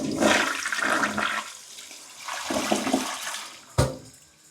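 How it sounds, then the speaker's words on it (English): A toilet whose flush jets were cleaned with vinegar flushes in a close, steady rush of water that swells, eases and swells again. A sharp clunk near the end is followed by the water fading away, with no voices. "I'm going to go ahead and flush it one more time."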